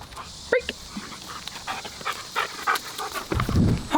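A dog pants in quick, uneven breaths at a park on a muggy midday, close to the microphone, with small whimpery sounds and a louder huff near the end.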